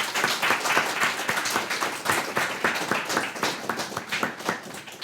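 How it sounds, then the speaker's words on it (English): Audience applause at a literary reading event, a dense, sustained patter of many hands clapping close by, tapering slightly toward the end. "I'd just like to take a moment to appreciate and applaud Alan for all of his work"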